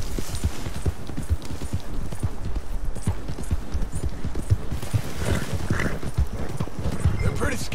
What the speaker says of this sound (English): Good thing I got my good horse.